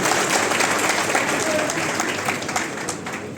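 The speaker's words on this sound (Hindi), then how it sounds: "हम उनका भी जोरदार तालियों से स्वागत करेंगे" An audience at a workers' camp gathering in Kota applauds in a dense, loud burst of clapping that slowly eases off.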